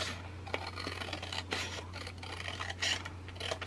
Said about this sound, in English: We're going to trim this long tab off.